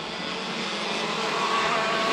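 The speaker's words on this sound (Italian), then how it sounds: "Passa in questo momento Marco Tormen, Giovanni Costenaro per Federico De Lugo e Mattei Kuren, perché i due sono molto vicini" A small go-kart engine in the Super Academy class drones steadily past at a ChampionKart race in Precenicco, loud and continuous with a slight rise toward the end, with no voices over it.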